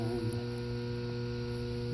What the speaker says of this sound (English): You heard the compressor change.